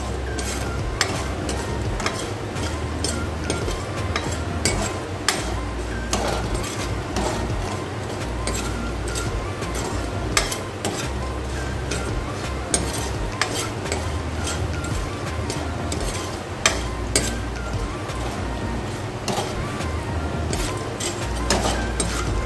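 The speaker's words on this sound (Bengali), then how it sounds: "বড়িটা আমার ভাজা হয়ে গেছে" Steady crackling sizzle of small urad dal lentil dumplings (bori) frying in hot oil, continuous and close, with occasional clinks of a utensil against the pan.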